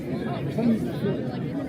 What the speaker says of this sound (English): I can hear voices in the crowd